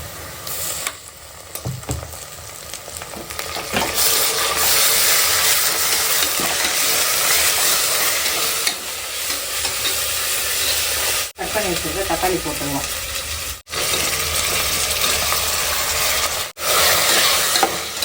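Ginger garlic paste sizzles loudly in a hot pan, a steady broadband frying hiss with scraping stir strokes, broken by a few brief sharp drops, with no talking.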